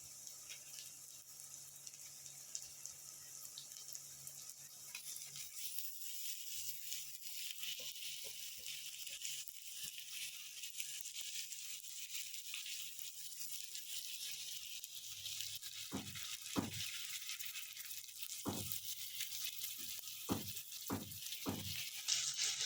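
Fish pieces for a Telugu-style fish curry (chepala pulusu) sizzle in hot oil in a pan, a steady hiss running throughout with a few sharp pops and crackles clustering near the end.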